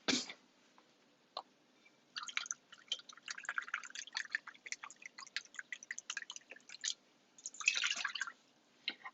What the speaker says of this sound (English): So we're going to do 2 cups of beef broth.